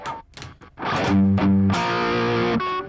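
Dry electric guitar played through a Tone X1 pedal, a few short muted plucks followed by sustained, slightly driven chords that ring out loud and close with no one talking.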